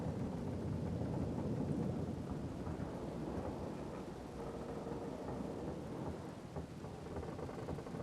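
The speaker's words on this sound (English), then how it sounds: "But we're not going to do much with this storm." A thunderstorm with steady rain: a continuous low rumble of thunder rolling under a dense hiss of falling rain, fairly faint and distant, with no voices.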